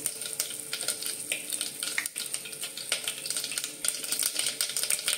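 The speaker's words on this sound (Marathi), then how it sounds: "आपलं हे तेल तापलेलं आहे. याच्यामध्ये आपण एक अर्धा चमचा मोहरी, हा पाव चमचा हिंग," Mustard seeds and asafoetida sizzle in hot oil for a Marathi vangi bhaat, making a continuous close crackle dotted with rapid popping and spitting from the seeds.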